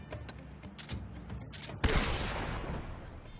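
Gunfire from the Ocelot fight in Metal Gear Solid, with scattered shots and then a sharp loud blast that trails into a sustained noisy rumble; no talking.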